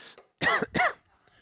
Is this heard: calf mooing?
no